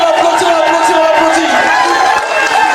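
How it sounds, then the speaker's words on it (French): A festive crowd at a 50th birthday party in Corbeil-Essonnes applauding and cheering, dense continuous clapping and voices filling the room without pause. "On l'applaudit très fort."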